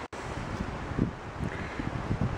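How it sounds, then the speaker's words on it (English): Steady wind buffeting the microphone in Linville Gorge, a broad low rumble with gusty swells throughout and no talking. "A little windy."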